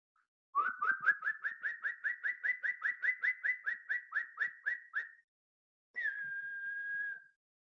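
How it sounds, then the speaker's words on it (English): Black woodpecker call: a long, evenly spaced series of about twenty loud, ringing notes, followed after a pause by a single drawn-out plaintive note, clear and isolated with no talking. "the black woodpecker, it has different calls"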